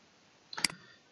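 A single crisp computer mouse click while uploading a file on a website, quiet and close, with a brief faint clicky tail and no talk.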